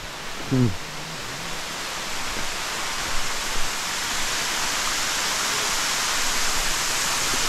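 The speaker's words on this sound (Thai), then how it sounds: "ความงามของน้ำตกครับ" Rushing water of a year-round waterfall in Nong Hin district, Loei province, a steady broadband roar filling the whole clip, with a brief voice near the start.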